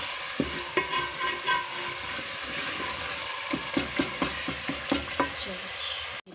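Meat pieces frying in masala and oil for paya, with a constant close sizzle and a run of rhythmic spoon scrapes and knocks against the pan, loudest in the middle stretch.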